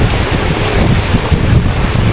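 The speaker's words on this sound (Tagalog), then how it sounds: "humagupit na naman yung hangin" Strong wind roars steadily against the microphone, a loud continuous rush of buffeting noise with no voices.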